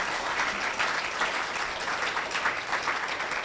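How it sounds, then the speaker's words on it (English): Steady, dense applause from a leadership forum audience honoring its leaders, many hands clapping continuously at an even level throughout. "Can we give a round of applause to our leaders here,"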